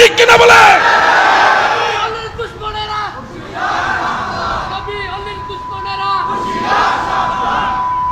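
Large crowd at a religious sermon shouting slogans in unison, loud repeated collective cries rising and falling in waves over about eight seconds.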